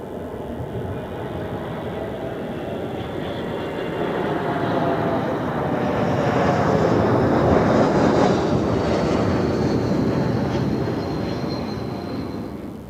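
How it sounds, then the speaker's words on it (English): An Airbus A220 airliner at Zurich Airport roars steadily with broad engine noise that swells toward the middle and eases slightly at the end, loud and unbroken, with no talking. "Another A220."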